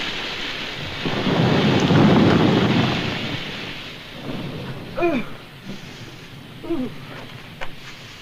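Rain pours steadily while a low rumble of thunder swells and fades; a few faint knocks follow as the storm quiets.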